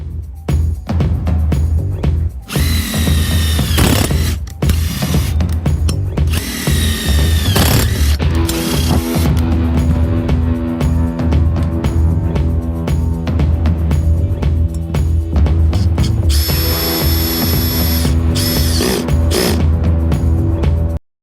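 A power drill fitted with a drill tap bit whirs loudly up close at a trade show, spinning in several bursts that rev up and wind down, with short pauses between runs.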